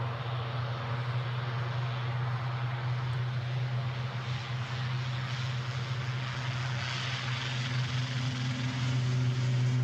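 Aircraft taxiing at Edinburgh airport, a steady droning engine hum with a strong low tone, continuous and moderately near, no talking.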